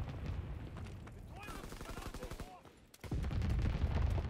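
Bursts of flak gun fire in a Call of Duty match, rapid repeated thuds in a tight rhythm followed by a heavier rumbling blast, close and fairly loud, with a voice speaking over the shooting.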